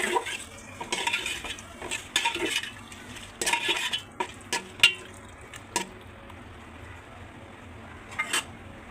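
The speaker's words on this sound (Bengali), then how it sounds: "এখন মাংসটা একটু দিয়ে মিশি ভালো করে" Beef is stirred with spices in a pot for beef khichuri, giving close scraping and clinking of a utensil against the metal pot in uneven strokes over a faint background sizzle, with no talking.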